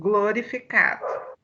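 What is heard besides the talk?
dog barking near a listener's microphone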